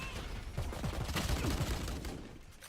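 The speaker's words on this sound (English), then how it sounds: "Shots going off" Gunfire during a competitive video game match, a quick loud burst of several shots over a busy in-game background.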